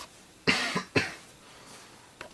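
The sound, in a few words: cough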